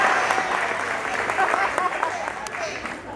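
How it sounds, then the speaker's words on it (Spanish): Applause from a concert audience at Pinar de Rocha for Elsa, a dense steady patter of clapping lasting throughout with voices and a few cheers mixed in. "Fuerte aplauso para Elsa."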